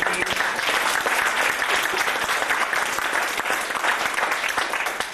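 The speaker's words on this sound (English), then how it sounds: "Round of applause for them." Wedding guests break into loud, sustained applause, a dense crackle of many hands clapping close and steady for several seconds with little talk beneath it.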